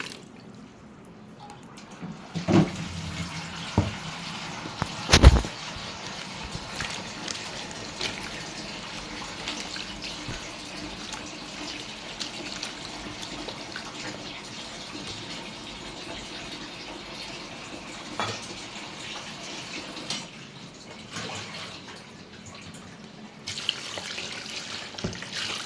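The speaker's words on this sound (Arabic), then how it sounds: "لازم تحطي مية باردة زي كده" Cold tap water runs from a faucet while bread dough is being made for Upper Egyptian-style flatbread, a steady close pour with a couple of louder splashes near the start and no talking.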